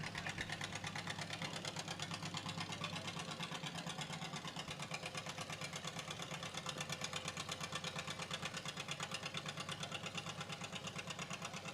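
A tractor engine at a barnyard tractor pull at the Georgetown Fair runs steadily, pulsing with an even mechanical throb and a dense rattle, heard at a distance with no voices.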